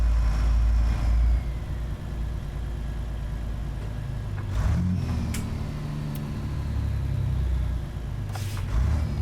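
A Detroit Diesel DD60 12.7-liter engine idles in a heavy truck in American Truck Simulator, a low, steady rumble throughout. It is joined by occasional brief hisses and clicks.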